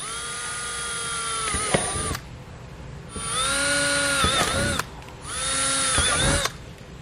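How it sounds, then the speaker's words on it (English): A power drill with a 1/4 inch bit whines loudly in three separate bursts drilling pilot holes for a trailer hitch, with short pauses between, and its pitch dips and shifts as the bit bites in. "We're going to use a 1/4 inch drill bit to make our pilot holes."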